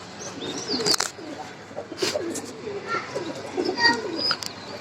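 Pigeons coo repeatedly in low, rolling murmurs, several birds overlapping, with occasional brief chirps and light rustling nearby.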